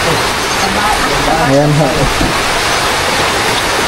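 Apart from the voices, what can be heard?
heavy rain pouring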